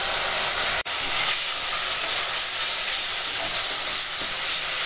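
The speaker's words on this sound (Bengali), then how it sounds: "আর মশলাটা যাতে না পুড়ে যায় তার জন্য অল্প করে জল দিয়ে দিলাম, দিয়ে এখন মশলাটা কষাবো।" Ground spice masala with turmeric fries in a pan with a splash of water, a dense continuous hiss of steam and sizzle, loud and close, briefly cut off once near the start, with no talking.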